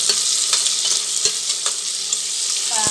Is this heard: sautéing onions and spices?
yes